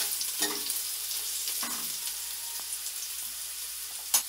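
Onions sizzle in hot oil in a pan, a steady crackling fry broken by a few stirring scrapes, heard close and alone.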